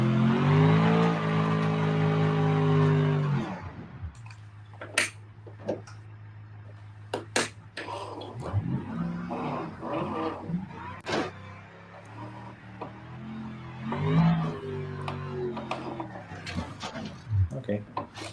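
The engine of a custom-built 4x4 Marauder runs off-road in low range with locked differentials, a loud droning rev at first that drops to a low idle rumble under scattered clunks and a person talking.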